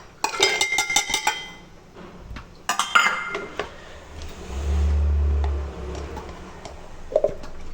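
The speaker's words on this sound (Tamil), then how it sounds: "இதை வந்து நம்ம மிக்ஸி ஜாரில் போட்டு இதை நம்ம ஆட்டிடுவோம்" Carrots are blended in a mixer grinder jar for a carrot and coconut milk juice: a few clinks of the jar and utensils come first, then a short, steady low motor whir from the grinder.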